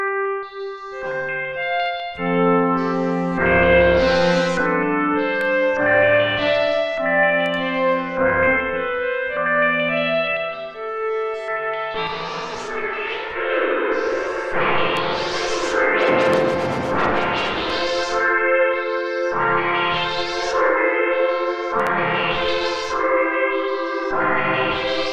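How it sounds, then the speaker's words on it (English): Synthesizer chords and notes drenched in reverb, with long washy tails blending into each other, loud and continuous throughout with no talking. "Let's hear the reverb."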